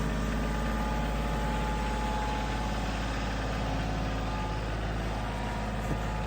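A Kioti tractor engine running steadily at idle nearby inside a shop, a constant low diesel drone with a faint whine and no change in pace.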